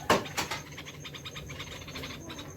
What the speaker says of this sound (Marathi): काय पक्ष्यांचा आवाज येतो शांत बसा कर पक्ष्यांचा आवाज घेऊ